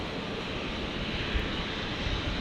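An airliner comes in to land on runway 19 right at Brisbane airport, heard as a steady broadband engine roar that holds constant and fairly loud the whole time.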